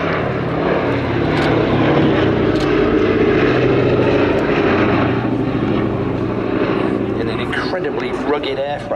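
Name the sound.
WWII bomber with four Wright Cyclone engines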